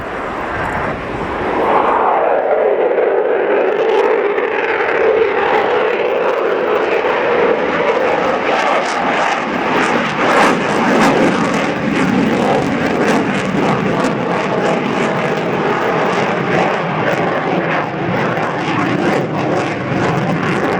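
A jet aircraft on approach at an air show, landing gear lowered, sweeps in with a loud, rising whine and a broad roar that holds near and steady, while a commentator talks over it.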